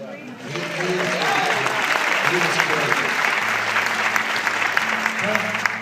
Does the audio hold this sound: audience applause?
yes